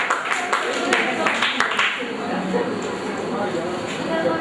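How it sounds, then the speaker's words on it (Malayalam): An audience applauds winners at a Logos quiz event, a brief burst of crisp overlapping claps that fades after a couple of seconds beneath a speaking voice. "ഒന്ന് കൈയടിച്ച് നമുക്ക് നമ്മുടെ സന്തോഷം എന്ന് അറിയിക്കുകയും ചെയ്യാം"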